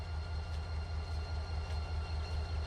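A CSX freight train rolls forward in a railroad simulation game, a steady low rumble with a faint rhythmic clatter, continuous and even throughout, with no voices.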